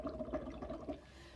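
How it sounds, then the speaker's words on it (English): Big bubbles blown into water in a towel-lined art tray, gurgling in a steady run of close, bubbly bursts for about a second before quieting. "I'm going to let it spill and do some big bubbles"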